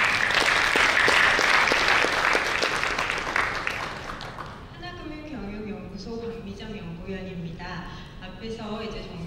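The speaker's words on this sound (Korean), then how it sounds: "박수 다시 한번 부탁드리겠습니다" Audience applause for a speaker at an economic outlook lecture, a loud burst of clapping that fades out midway as a voice starts talking over a quieter room.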